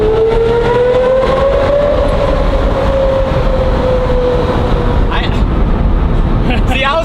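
A Lamborghini drives through a short curved tunnel in a low gear, its loud engine note rising and then holding steady, booming and echoing off the tunnel walls.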